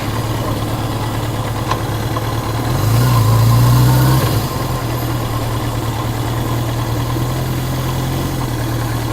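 Motorcycle engines idle steadily in a gravel parking lot near the Indianapolis Motor Speedway, a low constant rumble that swells louder for a moment before settling back to an even idle.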